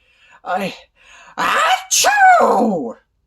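A narrator reading a Berenstain Bears picture book voices a theatrical sneeze for Papa Bear, a drawn-out vocal "achoo" in two loud bursts after a brief intake, imitated by voice rather than a real sneeze.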